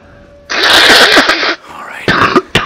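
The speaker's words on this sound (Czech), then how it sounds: "Pardon, já se musím vysmrkat." A person blows their nose in one loud, rough, breathy burst lasting about a second, then gives two or three shorter snorting blows, close to the microphone with no talking.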